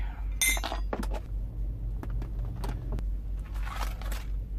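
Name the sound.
spoons clinking while making scalloped potatoes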